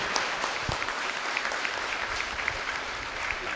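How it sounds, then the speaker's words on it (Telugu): An audience at a birthday celebration gives a woman a hearty round of applause, with dense, steady clapping from many hands continuing at even strength throughout. "ఒక్కసారి ఆవిడికి గట్టిగా చప్పట్లు కొడదామండి."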